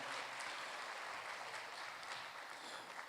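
An audience at a city education awards ceremony applauds steadily, a faint, even wash of clapping from a distance that holds without a break.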